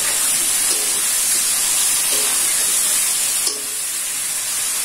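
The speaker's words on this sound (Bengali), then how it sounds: "মাছটা একটু কষাবো।" Pangas fish pieces fry in a pan of bubbling oil and spice paste for a fish curry, giving a loud, constant close hiss with a few faint stirring knocks and no voices.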